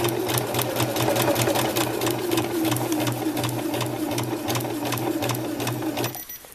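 A sewing machine stitches down the strap of a flower-petal lunch bag, running loud and close in a steady, fast mechanical rhythm that continues for several seconds and then stops.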